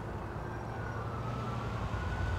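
A faint, distant police siren wails in a long steady tone over low road rumble, with no voices.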